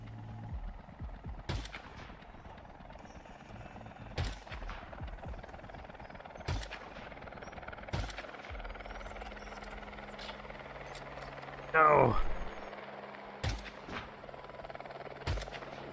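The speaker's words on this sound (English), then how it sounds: "They also don't care that I'm shooting them." Gunfire from the video game Hitman 2 during a shootout near a helicopter: sharp, isolated shots ring out every couple of seconds over a low ambient game background, with a brief burst of chirping effects midway.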